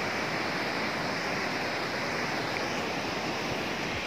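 A waterfall near the double-decker living root bridge at Nongriat, beside a green-water pool with big stones, gives a steady, broad rushing roar that stays even and unbroken, heard at a distance with no talk over it.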